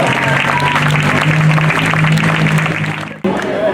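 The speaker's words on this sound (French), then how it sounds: "On applaudit bien fort, s'il vous plaît." A live audience at an evening amateur singing contest applauds loudly after a song, a dense sustained clapping with a low held tone underneath, briefly dipping before resuming.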